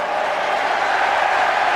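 Stadium crowd at Anfield, Liverpool's football ground, rising in a steady broad roar of cheering as Michael Owen arrives on the touchline during a match against Arsenal, continuous and fairly loud throughout.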